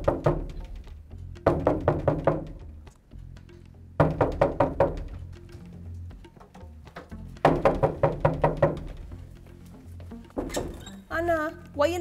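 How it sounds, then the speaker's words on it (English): Loud, close knocking on a door in repeated bursts of rapid thuds separated by short pauses, with a voice calling out near the end. "why you knocking down my door?"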